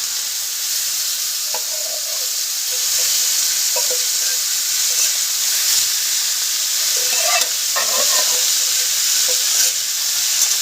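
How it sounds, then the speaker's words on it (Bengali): Pieces of desi chicken meat hit hot oil with bay leaf and cardamom, setting off a steady loud hissing sizzle up close, with a few soft scrapes and clatters of a utensil and no talk. "এলাচ মাংসগুলো দিয়ে দিলাম"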